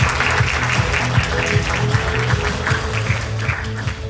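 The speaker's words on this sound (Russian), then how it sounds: "Провожаем под аплодисменты вас в зрительный зал." Audience applause at the Kostanay Higher Pedagogical College 'Arman – 2024' award ceremony: dense, sustained clapping from a large crowd filling the hall, steady and loud throughout, with a faint tonal backdrop underneath.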